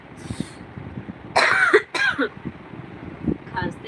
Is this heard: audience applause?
no